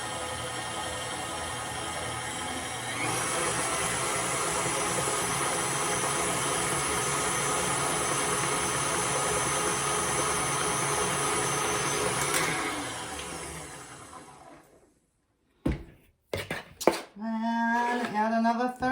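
An electric mixer whirs loudly and steadily through whoopie pie batter for about twelve seconds, rising in pitch slightly before winding down to silence. Brief clinks and a voice follow afterward.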